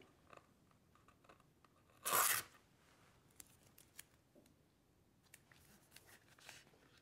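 A strip of duct tape torn for a craft tissue holder, one loud, close ripping burst lasting a fraction of a second amid faint rustling and small handling clicks.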